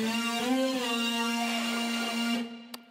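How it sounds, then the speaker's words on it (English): Alchemy's Water Shredder lead synth preset sounds a sustained, buzzy, gritty tone with a wavering upper edge, held steadily for about two and a half seconds before fading out, followed by a brief click. "So this is called the Water Shredder. It's a lead preset in Alchemy,"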